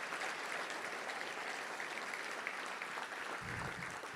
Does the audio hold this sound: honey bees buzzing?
no